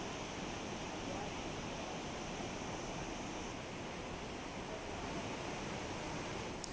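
The flooding Godavari river in Nashik, swollen by water released from Gangapur dam, rushes with a steady, loud roar that stays broad and unbroken throughout.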